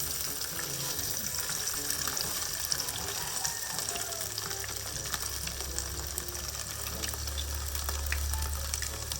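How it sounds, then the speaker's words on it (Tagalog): Steady sizzling and crackling of hotdogs frying in a pan, continuous and fairly close, with no talking. "nagpiprito po muna ako na itong hotdog na akin itong ilalagay"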